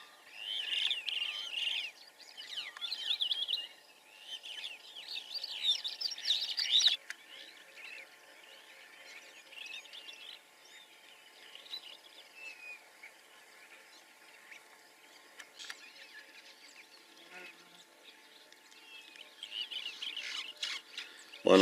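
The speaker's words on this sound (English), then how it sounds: "One of those white-throated bee-eaters, very common at this time in Meru." White-throated bee-eater in Meru calling repeatedly in high, bright chirps, loudest over the first seven seconds and then fainter and scattered, among other distant birdsong.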